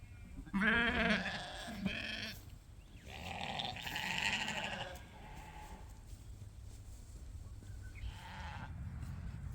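Sheep bleat on a farm on shearing day, several calls in bursts of varied pitch, fairly close, with a low rumbling background.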